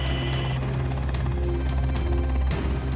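Steady low droning rotor and engine noise fills the enclosed cabin of a Coast Guard rescue helicopter in Alaska, with a constant hum and faint rhythmic thumping throughout.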